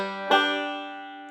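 A banjo plays a roll pattern with a hammer-on, a single bright plucked attack that rings out into a long sustained chord decay, played alone with no talk.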